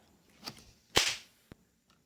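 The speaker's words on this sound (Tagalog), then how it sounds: "kasabay ng malakas na sampal" A sharp, loud slap across the face lands in a dramatic confrontation, a single crisp crack with a faint lighter smack before it and a small tap after, no talking.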